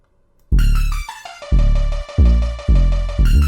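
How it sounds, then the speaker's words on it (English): An 808 pattern melody plays back: booming sub-bass 808 notes hit in a steady rhythm, each swelling and fading, with a bright synth lead melody layered over them, loud and close with no voices. "The main melody in the 808 pattern should sound like this"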